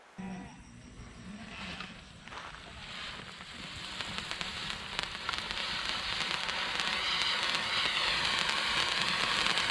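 A handheld firework fountain hisses and crackles steadily, growing denser and louder over time, with faint sputtering pops throughout.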